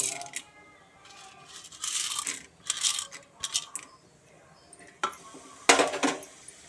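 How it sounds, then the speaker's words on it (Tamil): Chana dal tipped into hot oil in a pan, giving bursts of rattling, spattering crackle that come in short bursts, with a light metallic clink. "எண்ணெய் ஊற்றிடலாம் கடலப்பருப்பு போட்டுடலாம்"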